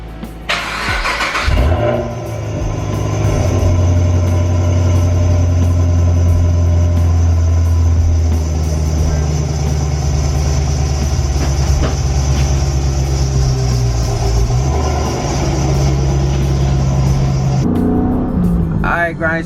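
Chevrolet Camaro engine starting, then a steady low rumble as the car drives off, heard from inside the cabin for most of the stretch, with talk over it.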